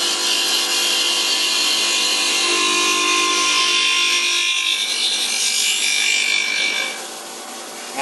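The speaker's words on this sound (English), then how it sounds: "get the fly cutter and face off" A CNC milling machine's fly cutter faces off excess material from a part for an FX-4WD top arm, producing a steady, loud, hissing cutting noise that runs on evenly and drops away near the end, with no talk.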